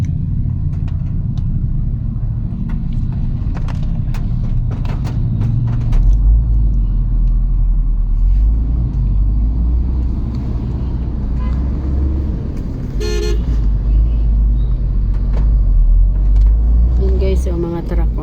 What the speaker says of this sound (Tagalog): So, mga truck, mga sasakyan.